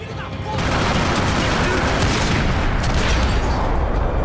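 Video game gunfire after switching to a sniper rifle, heard as a loud, dense barrage of shots and booms that sounds steady and close. It fills the clip with little break and no speech.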